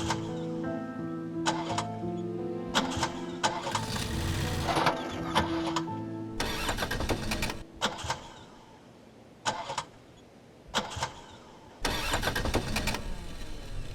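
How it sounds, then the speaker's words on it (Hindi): A car engine cranks in repeated bursts of starter whirring separated by short pauses, each attempt failing to catch and start; the sound is fairly close and no one speaks. "क्या हुआ है गाड़ी को? इंजन में कोई मसला है।"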